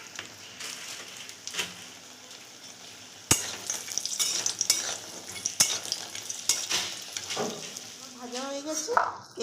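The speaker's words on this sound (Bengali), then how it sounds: "প্রথমে আমি কিছু বড়ি সর্ষের তেল গরম করে ভেজে নিচ্ছি।" Lentil dumplings (bori) fry in hot mustard oil, a soft steady sizzle broken by scraping stirs and utensil clinks, fairly faint and close.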